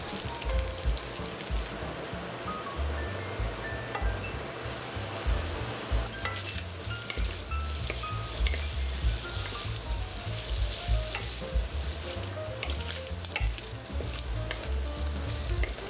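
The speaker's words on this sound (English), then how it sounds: "And cook our 12 ounces of jumbo shrimp." Twelve ounces of jumbo shrimp fry in an oily pan with a steady, close sizzle and occasional stirring, with no voices.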